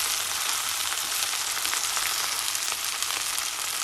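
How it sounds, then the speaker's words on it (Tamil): Beans being stir-fried in hot tempering oil give a steady, dense sizzle that holds constant throughout, with no voices. "இப்போ நாங்கள் பீன்ஸை தாளியத்தோடு சேர்த்து திரட்டி விடுவோம்"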